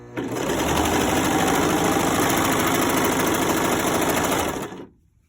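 Serger stitching a bagged seam with its cutting knife engaged, a dense, steady whirring mechanical hum with rapid needle chatter running continuously for about five seconds before stopping abruptly.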